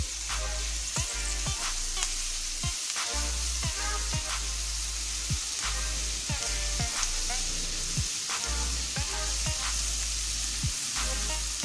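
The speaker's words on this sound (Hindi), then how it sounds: "इसको इतनी देर पकाएंगे कि इसकी स्मेल थोड़ी सी कम हो जाए।" Garlic and ginger paste fries in oil in a pan for potato bharta, a continuous soft sizzle punctuated by regular scraping strokes of a spoon stirring against the pan.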